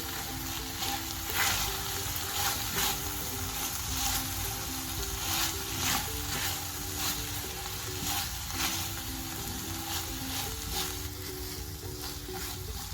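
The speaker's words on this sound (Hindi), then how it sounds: "अब मज़ीद इसको हम 2 मिनट के लिए भून लेंगे।" Chicken filling seasoned with salt, red chilli and black pepper frying in a pan, a steady, continuous sizzle with occasional stirring scrapes and no talking.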